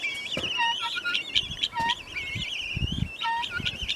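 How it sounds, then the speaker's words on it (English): Guinea fowl kept in a farm pen give repeated shrill, grating calls and chattering, fairly close and continuous, with a low background rumble. "There's Duck with his guineas."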